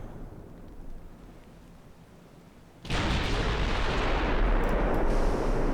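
Naval gunfire in the warship game Ultimate Admiral Dreadnoughts: a quiet wind-like rumble, then a sudden heavy cannon blast at about three seconds that rolls into a loud, sustained roar to the end.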